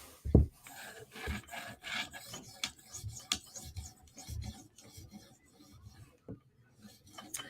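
Knife blade stroked across a 2000 grit sharpening stone on a TSProf Kadet guided system, soft rasping passes in an irregular rhythm with a few sharper scrapes, close and quiet.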